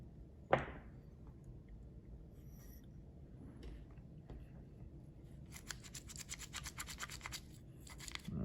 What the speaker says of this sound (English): I'm going to rinse it with alcohol and clean the gear teeth.